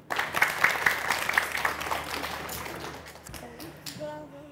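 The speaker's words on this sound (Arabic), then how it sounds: "تصفيق عليهم في زوج" A group claps and cheers at the end of a team ball-counting challenge, a dense burst of applause that fades over a few seconds.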